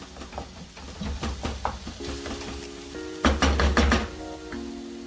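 Onions and tomatoes sizzle in a pan with salt as a spoon stirs and scrapes, a steady fry punctuated by clustered knocks and clanks against the metal, with a louder flurry of strokes midway.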